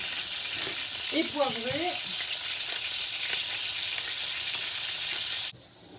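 Duck breast fries in a pan over very low heat, a soft, even sizzle that runs steadily and then stops abruptly near the end, with a brief spoken phrase early on.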